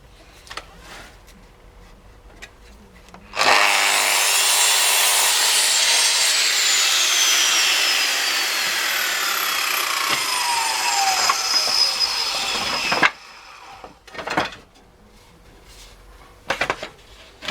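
A Bosch GCM 8 SJL miter saw cuts 15mm plywood, starting with a loud motor whine and a steady blade roar lasting about ten seconds, then winding down into clunks and quieter handling noises.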